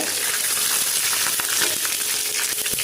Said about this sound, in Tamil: ஷாலோ ஃப்ரை பண்ணுறோம் நம்ம நிறைய எண்ணெய் ஊற்றி பிடிச்சிருக்காம சேலோ ஃப்ரை பண்ணுறோம்